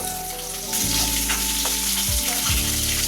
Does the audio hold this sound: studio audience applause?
no